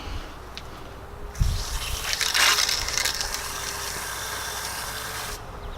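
Water from a hose filling a balloon at a homemade filling station, a rushing, crinkly gush that starts with a bump and churns for several seconds before cutting off, close by, no speech.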